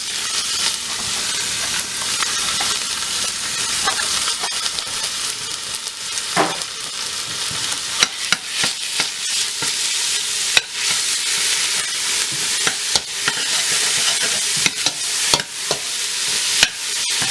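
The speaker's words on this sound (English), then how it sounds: "now that the vegetables have sweated down, I'm going to go ahead and add the ground turkey," One pound of ground turkey fries with sweated-down vegetables and olive oil for turkey chili, a loud, steady sizzle and hiss broken by frequent sharp clicks and scrapes of a spoon stirring.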